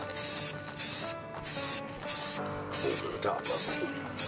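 Krylon Color Master spray paint hisses from the can in repeated bursts of about half a second, each followed by a short pause, while a person talks in between and over the spraying.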